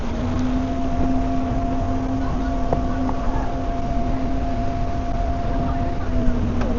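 Steady drone of a boat engine during a ride in Switzerland near Zurich and the Rhine Falls, constant and close with wind and water wash layered over it.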